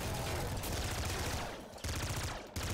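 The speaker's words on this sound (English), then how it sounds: "Oh, auto shotgun" An auto shotgun in Nuclear Throne fires in a rapid, dense stream of blasts that carries on almost without a break apart from two short gaps, harsh and loud across the whole clip.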